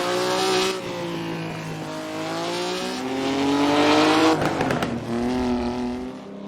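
A Ferrari's 1.5 litre V12 rumbles and roars loudly and close by, its engine note rising and falling through several revs with a steady harmonic drone and a sharp swell near the end.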